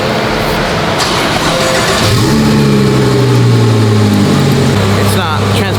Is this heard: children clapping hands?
no